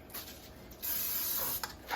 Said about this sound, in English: we're going to spray our pan with some canola oil